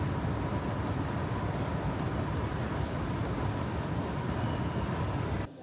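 An MRT train rumbles steadily at Changi Airport station in Singapore, a loud, even roar that keeps going and then cuts off sharply at the end.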